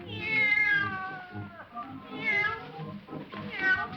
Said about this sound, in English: The cat came out too soon.